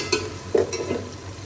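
Browned onions frying in a pan for a home-style Indian dish, with quiet sizzling under a few short scraping stirs of a spoon, close and moderately soft.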